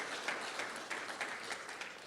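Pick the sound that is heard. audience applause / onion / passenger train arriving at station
audience applause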